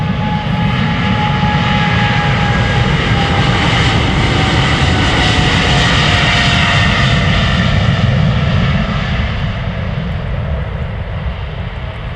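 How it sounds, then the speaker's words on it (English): An Emirates Boeing 777-300ER jet roars on takeoff at Amsterdam Schiphol, a loud, steady, close engine roar with a whining tone that holds for the whole stretch and eases slightly at the end. "Emirates Flight 146 to Dubai is taking off. That's a 777-300ER."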